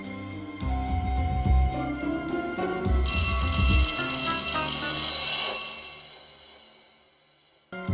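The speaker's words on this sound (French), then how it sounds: "L'alarme avait encore sonné à 8 heures." A clock alarm rings in rapid bursts over background music, loud and close, then the sound fades away toward the end.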